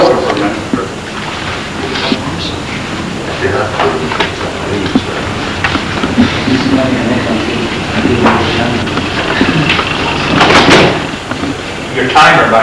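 A door bangs and clatters as someone walks out of a meeting room during a physics society session, a few sharp knocks amid ongoing chatter and shuffling, loudest near the end.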